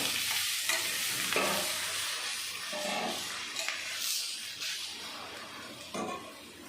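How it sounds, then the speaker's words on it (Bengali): Strained bottle gourd frying in ghee in a pan for a milk payesh, giving a dense continuous sizzle with repeated scraping stirs, close and fairly loud, without talk. "দিয়ে দেবো একটু ঘি করে রাখা লাউগুলো"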